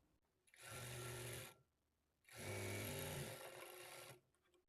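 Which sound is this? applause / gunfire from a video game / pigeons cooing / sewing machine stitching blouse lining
sewing machine stitching blouse lining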